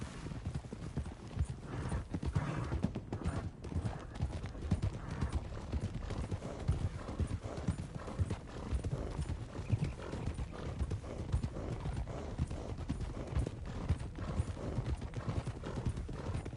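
Horse hooves clip-clop steadily along the ground in Red Dead Redemption 2, with several horses moving together over a busy background of rustling and movement.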